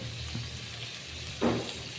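Prawns and onions frying over low heat in a pan for a prawn and bitter gourd fry, a soft steady sizzle with a brief louder stir or scrape near the end.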